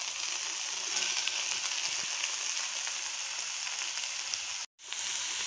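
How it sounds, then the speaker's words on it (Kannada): Tomatoes fry in a pan for a drumstick fry, giving a steady, close hiss and sizzle with faint crackles that cut out for a moment near the end. "ಟೊಮ್ಯಾಟೋಸ್ ಆ್ಯಡ್ ಮಾಡಿದ್ಮೇಲೆ ಒಂದು 5 ಮಿನಿಟ್ಸ್ ಅದನ್ನು ಫ್ರೈ ಮಾಡೋಕ್ಕೆ ಬಿಡಬೇಕು"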